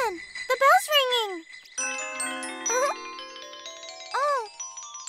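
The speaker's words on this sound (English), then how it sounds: "Listen, the bell's ringing." A bell chime rings in an animated cartoon scene, a sustained tinkling ding-dong with long ringing tones, mixed with a child's high, sing-song vocal sweeps over a silent background.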